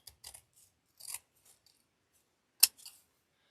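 Scissors make several crisp, separate snips through the folded material of a storm door wreath kit, one cut sharper and louder than the rest, with near silence between cuts.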